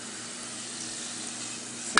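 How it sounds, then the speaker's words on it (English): Steady, even sizzling and bubbling of somasi pastries deep-frying in hot oil over low heat, close up, with a small clink at the end. "See, I'm frying this."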